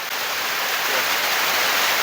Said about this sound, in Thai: ฝนมันตกใส่ลังกะซีมันดังชดๆอยู่